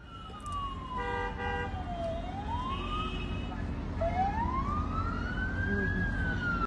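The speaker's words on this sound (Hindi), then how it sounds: "ये सायरन बज रहे हैं।" Sirens wailing in Saudi Arabia after a missile attack, one sweeping down and then rising again over steady traffic rumble, with a second tone pulsing briefly early on.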